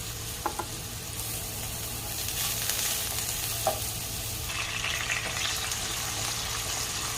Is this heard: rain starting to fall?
no